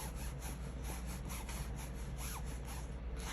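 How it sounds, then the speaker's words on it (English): Continuous rhythmic rubbing of silkscreen fabric, a steady scratchy swishing back and forth, close and fairly loud, with no talking. "you hear me rubbing the silk"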